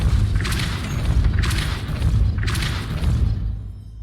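A Depulso spell cast in Hogwarts Legacy, heard as three deep booming blasts about a second apart, each with a whooshing burst on top, rumbling low in between.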